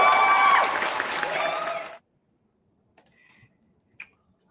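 Congregation at a Shabbat gathering gives loud clapping in praise, a dense burst of hands lasting about two seconds that cuts off abruptly, followed by near silence with a couple of faint knocks.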